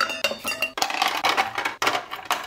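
A cocktail shaker is dry-shaken in rhythmic bursts, hard clattering strokes repeating about four times with short gaps between them, loud and close.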